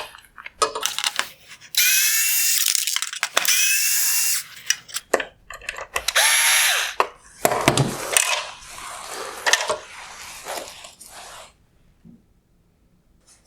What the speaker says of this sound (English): I'm going to remove the two T20 torque screws holding on the upper LED projector mount